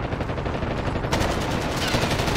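Dense automatic gunfire from the video game Warzone crackles loud and close in a continuous rapid stream, with no voices over it.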